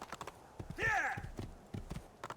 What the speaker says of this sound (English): God, the horse riding animation is so janky.